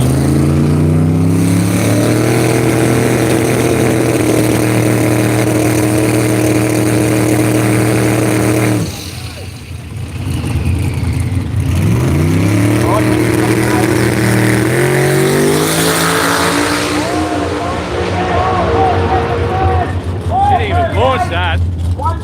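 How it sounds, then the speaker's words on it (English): A Mazda big block twin turbo drag car at an Australian radial drag racing event launches off the line, a loud sustained engine roar with rising harmonics, a brief dip, then climbing revs as it accelerates away. "We'll see if the Mazda Big Block twin turbo"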